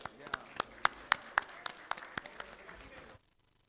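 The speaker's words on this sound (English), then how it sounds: "a big applause for everybody who presented a paper here" A modest audience at an ophthalmology award ceremony claps for paper presenters: sharp, distinct claps from a small group, loudest early, then thinning and stopping abruptly before a brief silence.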